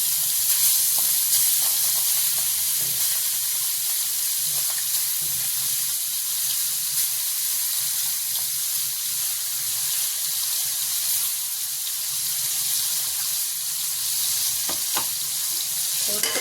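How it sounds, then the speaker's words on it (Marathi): Masala sizzles and fries steadily in oil in a kadai where prawns are being cooked, a dense, continuous crackle that stays at an even level throughout with no voices. "थोडी थोडी करून मी फ्राय करून घेणार आहे"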